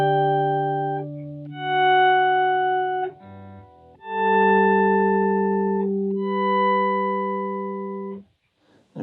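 Electric guitar chords run through an EHX Attack Decay and a Pitchfork set an octave down, giving a deep bottom note; slow-swelling sustained chords change every few seconds, loud and alone, ending in a brief near-silence.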